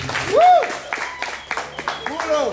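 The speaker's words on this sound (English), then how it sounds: "All right, another round of applause for Forrest" Brief audience applause for a performer named Forrest at a Wednesday open mic session, sparse claps scattered under a talking host's voice.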